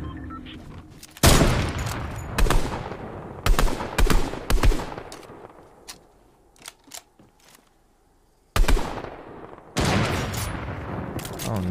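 Rapid bursts of gunfire in a video game, loud and close, arriving in several sharp volleys separated by short quieter gaps, with no talking over them.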